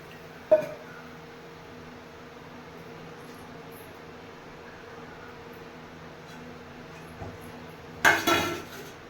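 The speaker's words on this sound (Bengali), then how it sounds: "জল দিয়ে দিলাম এবারে ঢাকা দিয়ে দেবো" A metal lid is set on a cooking pot of potatoes and water: one sharp clank near the start, a smaller knock later, then a louder rattling clatter near the end, close by over a faint steady hum with no speech.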